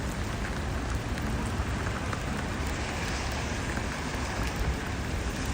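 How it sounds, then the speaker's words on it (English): Icy rain pours steadily onto a St. Petersburg street, a dense, even hiss of drops on hard surfaces that holds loud and unbroken throughout with no voices. "Icy rain."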